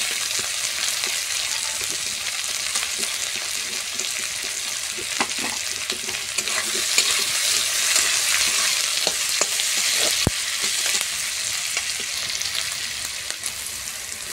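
Sliced onion and carrot frying in hot oil for a Bengali-style pasta, a steady close sizzle with scraping stirs and clatters throughout, no voices.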